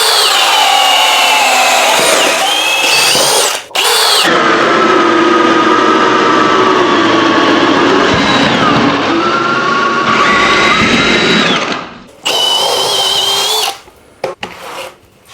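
A powerful Milwaukee hammer drill whines loudly and steadily as it bores with a 1-inch auger bit, its pitch shifting under load, with a few short pauses before it stops and sputters.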